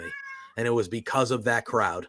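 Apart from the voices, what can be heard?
pet cat meowing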